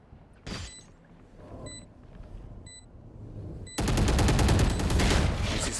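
Rapid bursts of gunfire in a Valorant competitive round, a few sharp shots early, then a loud sustained volley of automatic fire filling the last two seconds.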